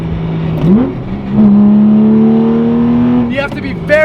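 A supercharged, modified 500 hp Porsche 911 996 engine pulls hard through the rear wheels, its loud tone climbing after a brief shift and holding a rising drone, heard from inside the car with a voice talking over it.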